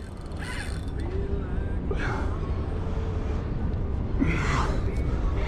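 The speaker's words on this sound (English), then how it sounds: "You can hear that drag." A fishing reel's drag clicks and ratchets in rapid bursts as a big redfish on shrimp bait pulls line during inshore fishing near Jacksonville, Florida, over steady wind and water noise.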